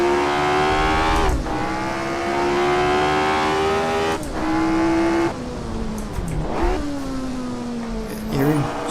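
Lotus 25 open-wheel racer at Brands Hatch in Assetto Corsa, its engine howling steadily then dropping sharply as the throttle lifts mid-corner, with engine-braking pitch dips and brief tire scrubbing, close and continuous.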